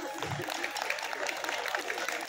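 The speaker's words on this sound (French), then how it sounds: "On peut les applaudir bien, bien fort" A crowd applauds majorettes at a village music festival in a dense, steady patter of clapping that continues without a break.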